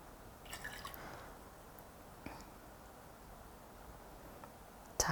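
Water tips out of a matcha tea bowl in a quiet room, giving soft drips and a brief splash followed by faint trickling, then a sharper clatter at the very end.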